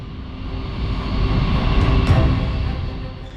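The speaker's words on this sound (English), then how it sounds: "the B-52 takes off with a thunderous roar filling the air" A B-52 bomber at full-throttle takeoff gives a loud, steady, deep roar that swells through the middle and eases slightly toward the end, with no talking.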